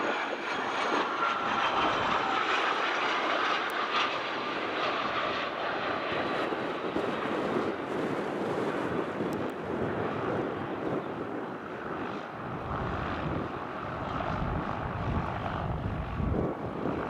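An airplane landing at Spirit of St. Louis Airport produces a steady, loud engine roar with a whining tone that slowly drops in pitch over about seventeen seconds, with no talk.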